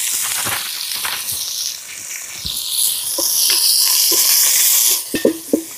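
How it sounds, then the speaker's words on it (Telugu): Chopped onions and green chillies tossed into hot oil with whole spices for cashew pulao: a loud, continuous sizzle and hiss, with occasional stirring clinks against the new pan near the end. "ఉల్లిపాయలు, పచ్చిమిరకాయలు అయితే వేసేద్దామండి."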